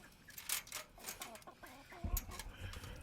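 Hens cluck softly and intermittently in a pen, faint close-up clucks scattered through the quiet with a few low thumps and movement noises.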